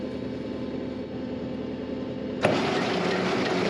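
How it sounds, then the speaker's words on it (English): Hay baler: a steady mid-pitched mechanical running drone, then a sudden louder, brighter surge as the machine kicks in and keeps running evenly up close, with no talk. "I'm gonna turn it on and see if it spins."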